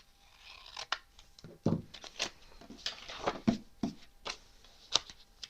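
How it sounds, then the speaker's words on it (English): Large scissors cut paper in crisp snips and crunchy cuts, an irregular series, close by and fairly quiet, with short pauses between them. "I'm going to use these bigger scissors."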